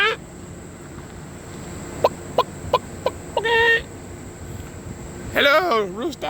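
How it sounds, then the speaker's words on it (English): A rooster on a city street lets out a short series of clucks, then a longer crowing call near the end, fairly close and clear over faint background noise. "It's a rooster."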